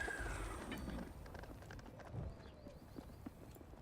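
A basic horse in the fantasy video game Fellowship clip-clops along at a walk, soft and steady under low game ambience, with no talk.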